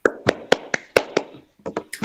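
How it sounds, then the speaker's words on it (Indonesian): A classroom of pupils clapping hands together on a teacher's cue, a series of sharp, close claps in an uneven rhythm with a brief pause before a few more. "tepuk tangan dulu"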